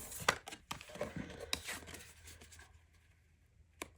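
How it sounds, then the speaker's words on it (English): Blade of a paper trimmer slicing a strip off a paper page for a folded folio craft, heard as a few short close scraping cuts and swishes, with soft handling rustles between them and no talk. "let's get this trimmer over here. And then let's see. This one, to get that nice green border, I'm going to have to trim off a little more."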